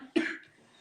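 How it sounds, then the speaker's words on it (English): A single short, sharp cough from someone recovering from sickness, close and fairly loud, then quickly fading into quiet room tone. "I didn't want to cough because that can look unprofessional, right?"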